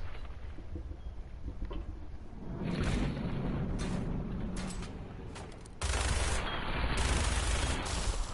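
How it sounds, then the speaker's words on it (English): Rapid bursts of gunfire ring out in a post-apocalyptic shooter game, a dense, loud fusillade that surges, dips briefly, then returns even heavier, with no talking over it. "Ah, bullets!"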